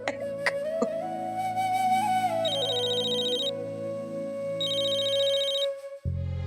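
A telephone rings repeatedly in a steady electronic pattern of bursts, clear and fairly close, with no talking.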